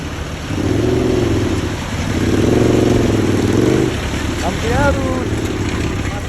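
A motorcycle engine, a Helter Pro, revs in steady surges while riding through water about half a wheel deep, loud and close, with a brief chirpy sound near the end and speech-like noise in the mix.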